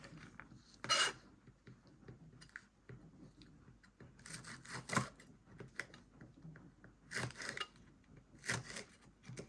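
A knife slicing jalapeño peppers on a cutting board, with quiet scraping and a few sharper chopping cuts spaced irregularly, close by and fairly soft, with no talk.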